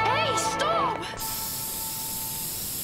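Cartoon-style hiss of green spray paint, a steady broad spray sound that starts about a second in and keeps going after an earlier burst of squeaky voices and sliding tones.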